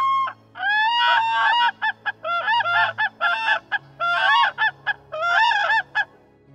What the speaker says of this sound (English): the species gets its name from the loud whooping sound it makes.